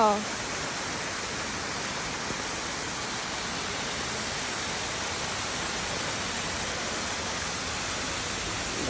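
Heavy rain pours down at a zoo in Italy as a dense, constant hiss that stays even throughout.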